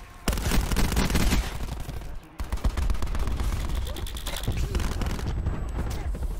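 Rapid gunfire bursts rattle close and loud in a video game firefight, automatic weapon volleys crackling in quick repeated strings with a brief pause, while players talk over it.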